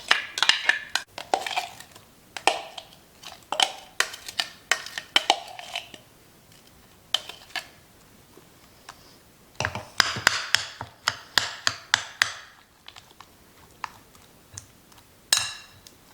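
A metal spoon mixing ground beef seasoned with salt, pepper and turmeric for pan kebab: irregular clinks and taps against a bowl in bursts with short pauses, close by and without speech.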